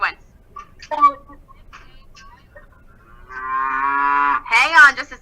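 Beef cattle on a farm let out a long, loud moo near the microphone, with shorter calls and sounds around it, and a voice briefly breaking in near the end.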